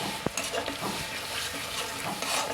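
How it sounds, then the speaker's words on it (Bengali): Chilli, cumin and coriander powder are stirred into a frying masala for masala paneer. A dense, continuous sizzle and scrape is heard, with a sharp spoon clink early on. "এটা দিয়ে আমি ভালো করে মিশিয়ে নেব মশলাটাকে"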